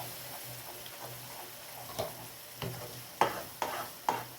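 Ground tomato masala frying in oil with onions, a soft bubbling sizzle punctuated by several sharp spoon knocks and scrapes against the pan near the end, no speech.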